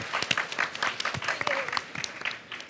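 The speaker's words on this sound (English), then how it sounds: "let's clap" A small audience claps at a digital media exhibition, a brief, uneven patter of individual hand claps rather than a thick roar, fading slightly toward the end.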